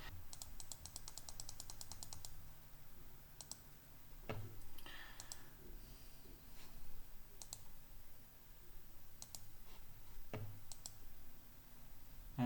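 Quiet clicking of a computer mouse and keyboard during Photoshop work, a quick run of clicks at the start followed by scattered single clicks over a low room hum, close but faint.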